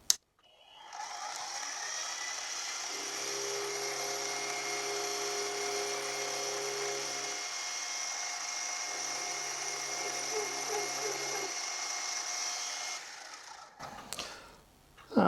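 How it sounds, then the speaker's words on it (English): A machine takes a final cleaning cut across the face of a Quorn Mk3 tool grinder wheelhead collar. A steady, loud machining whine runs throughout with a lower tonal hum joining in two stretches, then it stops near the end. "I can take a final cleaning up cut across that face."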